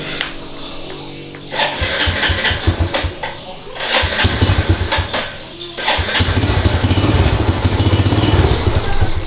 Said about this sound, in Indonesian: Sekarang saya mau nyalakan motornya.